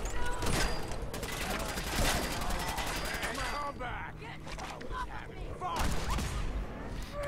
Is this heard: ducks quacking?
no